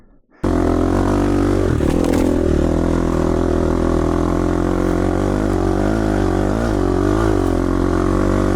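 A dirt bike starts suddenly and is ridden close by, a loud, continuous engine drone that rises and falls slightly as the rider works the throttle, with no talk.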